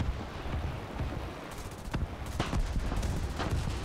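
Aircraft guns fire in War Thunder during a dogfight with a stalling enemy plane. Repeated sharp bursts crackle over a constant engine roar, with a denser run of shots near the end.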